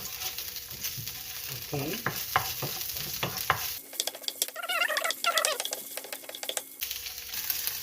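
Garlic sizzling in a hot pan for kimchi stew, steady frying crackle with scraping stirring sounds, close and fairly loud, interrupted by a brief spoken word.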